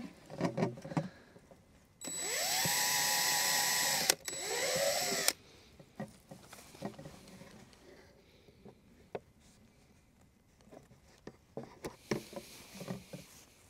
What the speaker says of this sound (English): I'm gonna drill a couple holes in the top